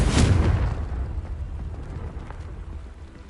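Confringo explosion spell in the video game Hogwarts Legacy, a single heavy boom with a sharp onset and a long rumbling tail that fades over about three seconds, loud and close.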